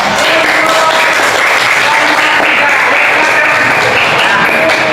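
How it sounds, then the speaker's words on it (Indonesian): A fifth-grade class claps hands during a lesson, giving steady, loud, continuous applause with a few voices mixed in. "Silakan tepuk tangan dulu."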